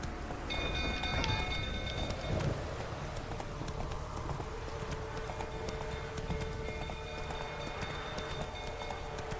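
Hooves of the horse Roach clip-clop steadily at a walking pace in The Witcher 3, set against continuous rain and an ambient background for the full stretch.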